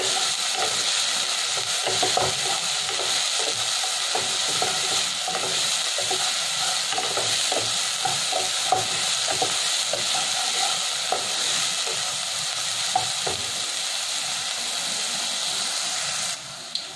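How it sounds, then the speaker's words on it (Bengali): Chopped onion stir-fries with cumin in a hot pan, giving a steady close sizzle and hiss broken by light scraping taps of stirring throughout, then cutting off near the end. "পেঁয়াজ কুচিটা আমি 1 মিনিট নাড়াচাড়া করে নেব"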